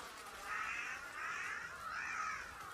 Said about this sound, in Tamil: காக்கா கூட்டத்தை வச்சு தோக்கடிக்கலாம்னு நினைச்சது யாருப்பா?